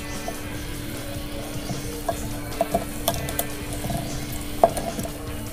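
Grapes and sugar get stirred for homemade grape wine, with soft scraping and occasional clinks of a spoon against the container over a quiet, steady background hum.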